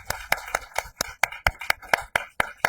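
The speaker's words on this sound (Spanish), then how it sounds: "Les pido un aplauso porque" A single person claps in a small gathering at a Spanish-language talk on art and antiracism, giving about a dozen sharp, close, evenly spaced claps with silence between them.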